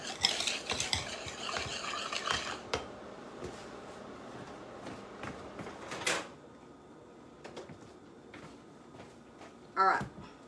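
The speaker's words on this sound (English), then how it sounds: "I'm gonna stir up the cocoa and the sugar and the cornstarch" A spoon briskly stirs dry cocoa, sugar and cornstarch in a bowl, giving rhythmic scraping and gritty swishes for several seconds before quieter taps and a final clink.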